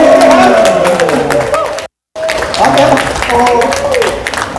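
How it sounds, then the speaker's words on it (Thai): Crowd applause for a bonsai award winner at a gathering, steady clapping mixed with chatter and voices throughout, briefly cutting out in the middle. "ตั้งแต่อาจารย์เอาวางไว้กับพื้นผมเอาเสียงปรบมือเลยครับผม"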